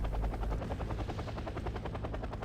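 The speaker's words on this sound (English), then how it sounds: "they're shooting my helicopter" Helicopter rotor chopping steadily and loudly in the WarGame Airland Battle video game while the aircraft comes under fire, a rhythmic thudding beat throughout with no talk.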